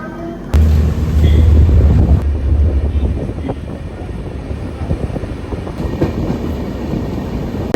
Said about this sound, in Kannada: ನಮ್ಮ ಟ್ರೈನ್ ರೀಚ್ ಆಗಿದೆ ಅಲ್ವಾ ಜಂಕ್ಷನ್ಗೆ.